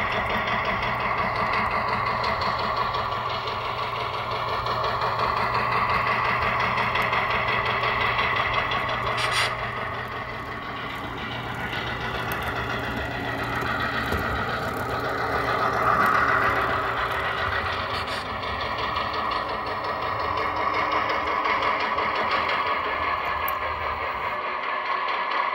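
A TCS WOW 5-amp sound decoder in a model train locomotive gives a steady engine rumble and hum with a faint rhythmic chug, running continuously at an even level with no talking.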